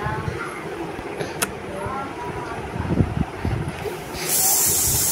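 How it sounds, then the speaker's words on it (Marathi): A pressure cooker in a home kitchen lets off its steam whistle while rice cooks. A loud, steady, bright hiss bursts in near the end and keeps going, after a few seconds of low background clatter. "इकडे शिट्या झाल्यात कुकरच्या."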